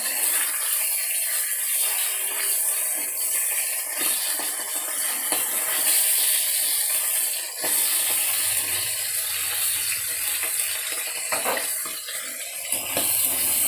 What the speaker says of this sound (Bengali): মাছের চোখ ফাটছে।